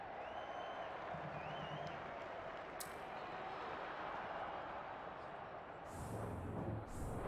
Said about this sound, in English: The crowd already making plenty of noise as the captains come together in the middle